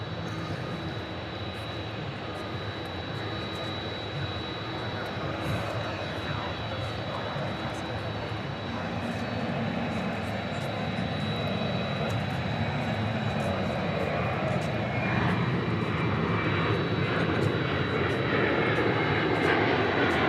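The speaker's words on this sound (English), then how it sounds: "Oh, we got the ATI, Air Transport International, pushing back here at UPS Mini Port." Air Transport International cargo aircraft pushing back at the UPS ramp, a steady broadband jet engine roar with a high whine, holding loud and slowly swelling throughout.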